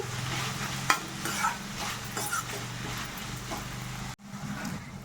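Onions and tomatoes fry in a pan with a soft, steady sizzle and occasional stirring scrapes. The sound is fairly quiet and breaks briefly near the end.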